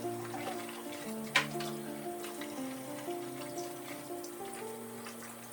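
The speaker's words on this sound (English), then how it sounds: "I'm going to open it up and I am going to rinse them a bit" Tap water runs steadily over thawed, pre-cut salmon steaks being rinsed in a kitchen, a continuous moderate hiss with one brief sharper splash partway through and no voices.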